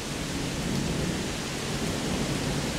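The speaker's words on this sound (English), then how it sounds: "I need to catch this last thunder." A violent thunderstorm pours heavy rain in a steady, dense roar that fills the whole clip, with the low rumble of thunder mixed in and no voices.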